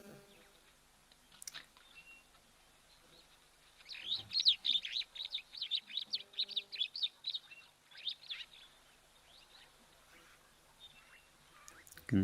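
Birds chirp and twitter among elephants at a waterhole, a busy burst of rapid high calls in the middle, fairly close but soft, with scattered faint rustling and quiet spells around it.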